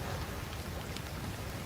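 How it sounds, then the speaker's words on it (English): Steady rain pours onto an open urban water plaza, a dense, even hiss of drops with no pauses over the short stretch. "When it's keep on raining like this and even more heavier, then this will be filled up slowly."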